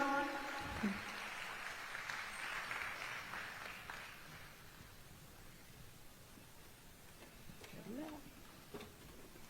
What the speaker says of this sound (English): So give her a round of applause once again, please, everyone.